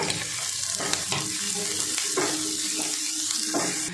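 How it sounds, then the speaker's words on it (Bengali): Chopped ginger, garlic and onion sizzle in a pan of oil, a steady close-up hiss broken by repeated scraping taps of a spoon stirring them, with no voices. "আদা আর রসুনটা একটু ভেজে নিয়ে তারপরে পেঁয়াজটা দিতে হবে। পেঁয়াজটা একটু ভেজে নেব।"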